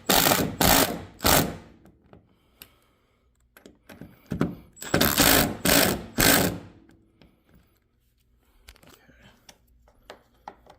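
A hand ratchet tightens a roof rack bolt on a first-generation 1997–2001 Honda CR-V with an OEM rack: two loud, close bursts of rapid clicking separated by a pause, then a few quieter scattered clicks and taps.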